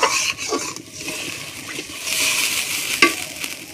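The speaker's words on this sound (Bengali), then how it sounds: "ঝোলটা ফুটতে থাকবে।" Fish curry gravy with bhola and parshe fish heating in a pan, a close bubbling sizzle with a few sharp clinks and scrapes of a spoon against the pan across a short stretch.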